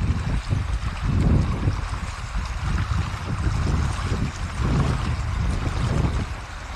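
Steady broadband water churn and splashing from feet wading through a cold river a little over calf-deep, continuous and close for the whole stretch, with no talk.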